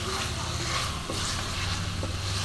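Chicken with panch phoron spices stir-fried in a pan, a steady close sizzle with stirring scrapes running throughout.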